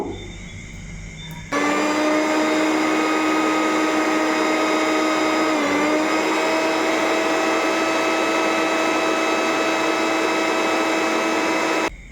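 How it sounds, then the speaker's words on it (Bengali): A mixer grinder whirs loudly and steadily, grinding soaked rice into paste, starting abruptly after a brief quiet moment and running on with a constant motor whine until it cuts off at the end. "চলো চালটা এখন পেস্ট করে নেবো"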